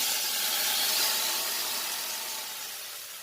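Marinated kidney and liver pieces sizzle as they hit hot oil in a pan, a steady loud hiss that fades slightly over a few seconds, with no talking.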